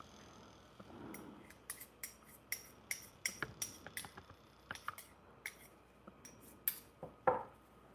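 A pair of freshly sharpened scissors test-cutting, giving a series of crisp, irregular snips, close and fairly quiet, with no voices.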